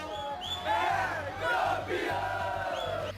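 Flamengo supporters crowd the streets of Rio celebrating their Libertadores and Brazilian league titles, a dense roar of cheering and shouting voices swelling in waves over steady chanting and music beneath.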